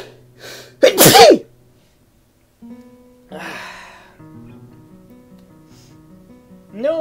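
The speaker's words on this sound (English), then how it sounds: "No, I don't think that was a master sneeze. That was just a summer sneeze." A single loud, abrupt sneeze bursts out near the start, sharp and close, followed by quieter breathing and vocal sounds afterward.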